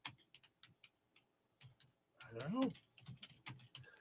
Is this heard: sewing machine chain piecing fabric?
no